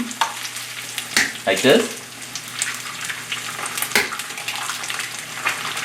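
A whole egg dropped into a hot pan for a Chinese sausage omelette hisses and sizzles loudly, with brief stirring scrapes and a short spoken remark over the frying.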